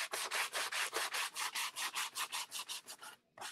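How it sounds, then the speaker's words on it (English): Hand sanding along the edges of a wooden cow-shaped door hanger, with about fifteen quick, even back-and-forth rasping strokes, close up, ending in a brief pause. "I'm sanding the edges down really good and giving it a nice distressed look on the edge"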